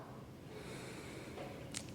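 A soft, close deep breath is drawn through the nose during a slow stretching exercise, quiet and airy with a short sniff near the end.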